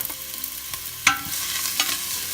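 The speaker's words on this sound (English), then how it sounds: "we're going to saute these veggies" Diced carrots, celery and onion sautéing in olive oil for Italian wedding soup, a soft steady sizzle broken by a few sharp stirring scrapes and clacks against the pan, close and with no voices.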